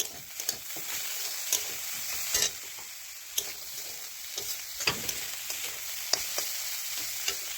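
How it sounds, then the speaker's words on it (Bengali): Radish greens frying in a wok, a continuous crackling sizzle with frequent sharp clinks and scrapes from stirring, close and steady throughout with no talking. "এই যে এখানে আমি করছি হলো গিয়ে মূলো শাক ভাজি"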